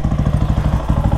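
A new dirt bike's engine revs in quick, rhythmic throttle blips, a loud close-up pulsing bark with a slight clattery edge, and no talking over it.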